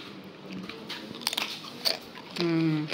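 A few crisp crunching bites into brittle banana chips, close up, with soft chewing noises between them.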